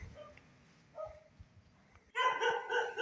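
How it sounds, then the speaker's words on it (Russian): Dogs bark along a poorly lit residential street, with faint scattered yaps at first and then a louder burst of overlapping barking near the end. "Слышите, это лай собак."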